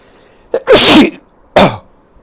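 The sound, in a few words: sneeze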